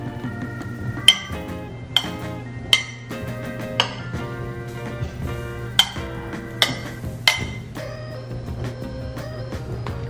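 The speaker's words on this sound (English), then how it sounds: "Let's mix it up a little bit." Spoon stirring Parmesan cheese into a dish in a home kitchen, with sharp metallic clinks against the pot at irregular intervals over a low steady hum.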